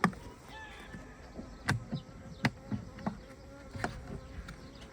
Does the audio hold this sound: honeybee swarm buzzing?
yes